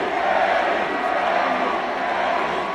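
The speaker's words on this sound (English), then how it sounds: "The crowd would begin chanting Eddie Kingston's name again." A wrestling arena crowd in WWE 2K22 chants and roars as a steady, loud, dense wash of many voices, with no single speaker standing out.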